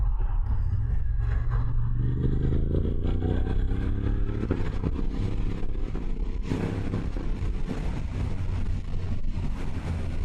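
A motorcycle rides along an open road toward Ipswich, its engine droning steadily and loudly throughout with rising and falling revs, wrapped in constant wind rush and no voices.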